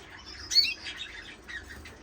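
Irish fancy canaries give brief, high chirps and twittering notes in a short burst, fairly faint against a quiet background, with no voices.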